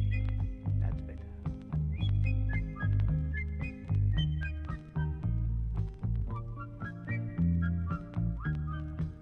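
Bright, melodic whistling drifts in short phrases over a steady, bass-heavy groove of music, fairly quiet in the mix.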